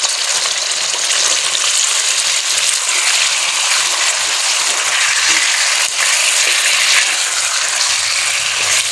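Chicken fries in oil in a karahi pan for Peshawari chicken karahi, a loud, steady, close sizzle with bubbling crackle and no talking.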